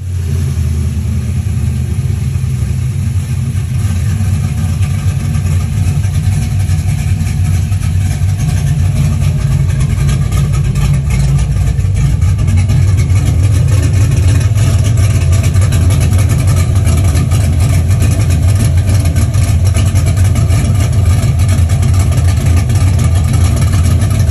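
A 1971 Chevelle V8 with a new Holley carburetor idles steadily and loudly up close, a deep rumbling low-end burble that settles into an even, continuous rhythm with no talk over it.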